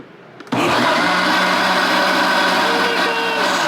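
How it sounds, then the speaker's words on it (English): A Ninja Foodi blender kicks in abruptly after a quiet start, its motor roaring loud and steady for several seconds with only a slight dip in pitch as it pulses. "I'm gonna pulse it"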